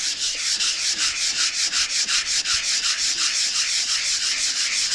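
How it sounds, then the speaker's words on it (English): Steady, rapid hand sanding against a sealed, segmented wood-turned jug, a dense rasping hiss that pulses in quick rhythmic strokes without pause. Close and loud, no talking. "sanding up, making it extremely smooth"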